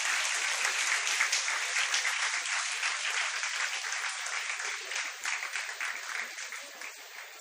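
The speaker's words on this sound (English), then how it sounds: "A round of applause, everybody." A crowd at a school awards ceremony applauds steadily, a dense wash of clapping that gradually thins and fades toward the end.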